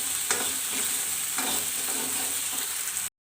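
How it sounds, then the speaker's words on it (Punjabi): Onion, garlic, ginger and green chillies fry in hot oil for a mushroom and pea curry, with a steady close sizzle and a few scraping stirs of a spoon against the pan. "ਲਸਣ ਨੂੰ ਆਪਾਂ ਇੱਕ ਵਾਰੀ ਫੇਰ ਚੰਗੀ ਤਰ੍ਹਾਂ ਭੁੰਨਾਂਗੇ"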